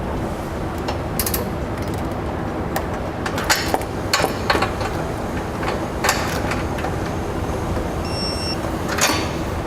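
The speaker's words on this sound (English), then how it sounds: "You want to make sure when you're torquing your hardware, you're torquing the nut side" Torque wrench tightening nuts on trailer hitch hardware during a receiver installation on a 2016 Jeep Patriot, heard as scattered metallic clicks and clanks over steady background noise, with no talk.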